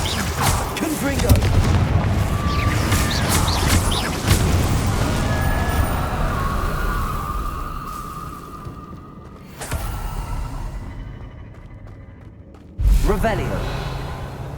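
Blasting spell from Hogwarts Legacy bursts with a booming explosion, followed by a whooshing rumble that fades, then another sharp heavy impact near the end.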